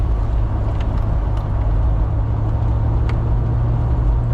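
A VW Golf GTI Mk1 engine drones steadily while driving, a close, continuous low rumble with faint road noise and no clear revving.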